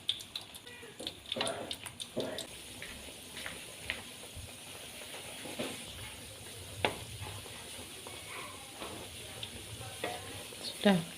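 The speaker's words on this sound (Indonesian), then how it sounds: "Kita goreng dulu." Potato patties (perkedel) fry in hot oil with a continuous crackling sizzle, broken by occasional louder pops and stirring or scraping bumps, close up with no talking.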